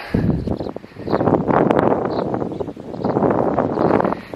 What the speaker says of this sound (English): because it's pretty windy here